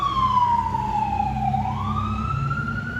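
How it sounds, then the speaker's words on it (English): A fire truck siren from first responders in Yonkers wails steadily. Its pitch sweeps down and then back up, loud and fairly close, over a constant rumble of traffic. "sirens from some of our first responders here in Yonkers"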